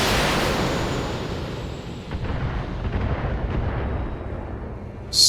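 Video game weapons fire as a heavy, rumbling artillery-like boom that swells and slowly decays into a rolling roar, with a sharp new burst right at the end, no talking.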